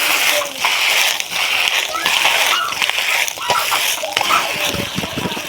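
Cut pieces of arbi (taro) leaf roll are stirred in hot oil in a kadhai, giving a loud, continuous sizzling hiss with scraping and clattering of the spoon close up.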